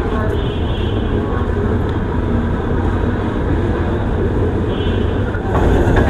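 The Sundarban Express rolls over the Padma bridge in a steady, dense rumble of wheels and carriage noise heard from inside, continuous and loud, with faint voices beneath it.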